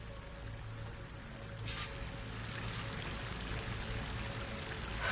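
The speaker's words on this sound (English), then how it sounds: "That waterfall must be coming from somewhere." A waterfall in the video game Horizon Forbidden West, a continuous pouring rush of water that grows fuller after the first couple of seconds, steady and moderately loud with no talk.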